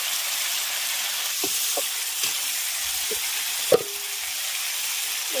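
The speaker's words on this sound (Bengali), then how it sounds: "মশলা ভাজা হয়ে গেছে। এর মধ্যে আমি ছোলার ডাল দিয়ে দিচ্ছি।" Chana dal is tipped into hot fried spices in a pan, giving a steady broadband sizzle with a few scraping stirs and one sharper knock, close and unaccompanied by speech.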